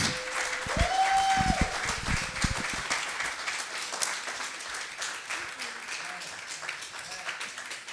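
An audience claps at a poetry cafe event, a dense burst of applause that starts loud and gradually thins out, with voices talking underneath and over the fading clapping.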